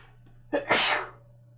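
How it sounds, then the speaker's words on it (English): A single close, sharp sneeze, a brief intake of breath followed by a burst of forceful air, then quiet hum. "I'm gonna sneeze."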